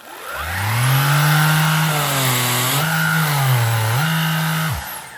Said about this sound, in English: This thing also has a 15-watt brush bar motor, so it's got some power to it. And this is how powerful it sounds.